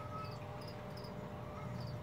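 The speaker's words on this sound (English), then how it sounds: "I'm sorry about the crickets." Crickets kept as pet food chirp steadily in the background, a faint continuous insect trill with no speech over it.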